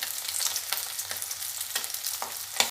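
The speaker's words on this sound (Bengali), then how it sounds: "মাছটা ভেজে নিচ্ছি মাছের এক পিঠ হয়ে গেছে উল্টে দিয়েছি" Steady crackling sizzle of fish frying in hot oil, continuous and close, with a few sharper pops and a brief clatter near the end.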